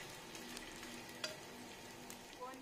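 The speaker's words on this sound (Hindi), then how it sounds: "अब घी में गोंद को डाल दिया है, इसको भी अच्छे से फूलने तक" Edible gum frying in hot ghee in a kadhai while making dry fruit gond laddoos, a steady soft sizzle and crackle with occasional small pops, fairly quiet and continuous with no talking.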